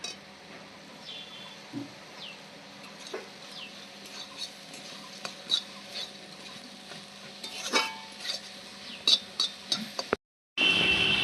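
A spatula scrapes and taps through a pan of fried ponka greens mixed with fried peanuts, giving irregular clicks and soft scraping over a low sizzle, close up, ending in a sudden cut of silence.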